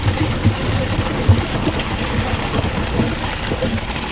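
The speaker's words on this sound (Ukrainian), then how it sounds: "потік, що без зупинку біжить не в батареї, а в землю" Water gushes from a leaking heating pipe into the ground outdoors, making a loud, continuous rushing roar with irregular splashy surges throughout.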